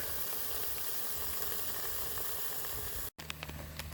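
Vegetables and oil sizzle in a pot hung over an outdoor campfire by a creek, a dense, even hiss held close and loud before it cuts abruptly to quieter background sounds with faint taps.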